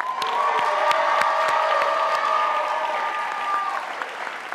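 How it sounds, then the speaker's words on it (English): A crowd applauds and cheers for the graduating class at a 2022 high school graduation ceremony, steady dense clapping with scattered whoops, loud and continuous throughout. "Let's give them another round of applause."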